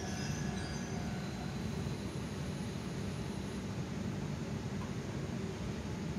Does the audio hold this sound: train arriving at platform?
yes